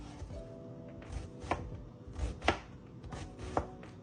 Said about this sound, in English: I'm just gonna slice this or dice it, whatever you wanna do, into little small pieces.